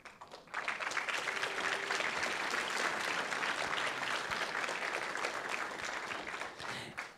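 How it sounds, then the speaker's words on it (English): An audience at a California 48th congressional district debate on environmental and climate issues breaks into sustained applause, a dense wash of clapping that starts abruptly, holds steady for several seconds, then tapers off. "This is the time you can applaud."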